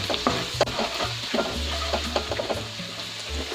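Ginger-garlic paste and crushed red chilli frying in a pan for orange chicken, with a continuous close sizzle broken by frequent scraping stir strokes and low clunks of the pan.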